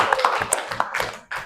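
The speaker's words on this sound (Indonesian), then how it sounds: "Oke, kita kasih aplaus untuk teman kita." A classroom audience claps briefly for a classmate in a short burst of scattered, close hand claps that fades after about a second.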